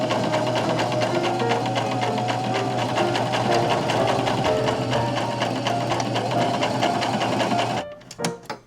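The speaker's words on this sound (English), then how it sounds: "I'm not pinning it, I'm just going to sew." A sewing machine stitches a seam without pinning, running steadily and loud for about eight seconds before stopping abruptly, followed by a few faint clicks.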